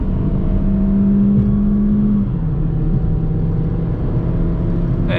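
A 2024 Peugeot 208 1.6 automatic accelerates hard in third gear to overtake on a highway. Loud, close engine drone with a steady rising tone and constant road and wind roar, no talk.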